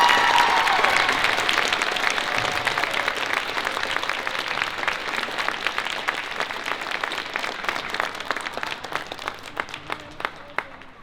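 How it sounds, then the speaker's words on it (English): Audience applause at a winter percussion and colorguard event fills the space, dense crowd clapping that starts loud and slowly thins, individual claps becoming more distinct as it fades. "So please, big round of applause."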